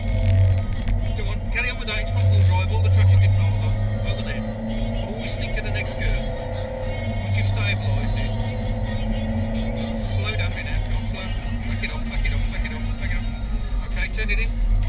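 A car lapping Rockingham circuit gives a steady, loud engine drone that rises and eases with the throttle through the corners, with an indistinct voice intermittently over it.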